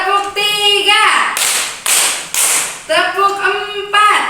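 A teacher-led class clapping pattern: three sharp, evenly spaced hand claps in a row, with someone speaking before and after them.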